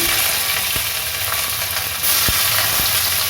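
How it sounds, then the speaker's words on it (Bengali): Cooking oil for a winter vegetable fry with cauliflower, potato and peas bubbling hard in a pan: a loud, continuous close-up sizzle and hiss with a few faint taps of a utensil, no talk. "তেলটা দেখুন ফুটতে শুরু করে দিয়েছে কি সুন্দর শব্দ"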